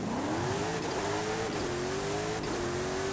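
A Hot Wheels car in Forza Horizon 5 accelerating hard, its engine note climbing steadily in pitch with brief gear-shift dips, loud and close with no talk.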